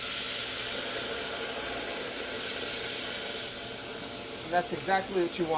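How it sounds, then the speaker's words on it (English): Salsa hits smoking-hot safflower oil in a saute pan, giving a steady broadband sizzle and hiss throughout, with a person speaking briefly near the end over the frying. "I'm going to go ahead and add my salsa."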